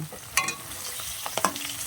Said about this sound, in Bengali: এবার মাছগুলো আমি ভালোভাবে এখন পুরোটাই তুলে নেব।